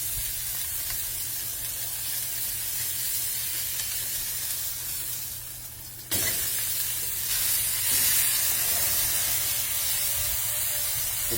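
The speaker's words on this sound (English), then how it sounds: "Make sure you sear all sides, guys." Steak searing in a hot pan, a constant hissing sizzle that swells suddenly partway through as the meat is shifted or turned, then continues steadily.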